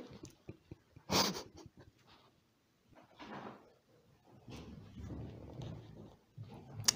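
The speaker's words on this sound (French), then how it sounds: "Le bruit que vous entendez à côté, c'est Salem qui galope dans tous les sens" A cat galloping around nearby makes scattered knocks and rustling thumps, with quiet breathing-like noise in between and a sharp bang early on.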